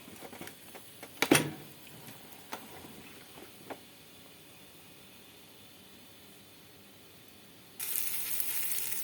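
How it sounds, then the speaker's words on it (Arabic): Hawawshi is set into a hot grill pan and gives off a low, steady sizzle, with a few sharp clatters from setting it down and a lid closing near the start. The sizzle grows louder and brighter toward the end. "انا حطيت الحواوشي في الجريلة وهقفل عليه"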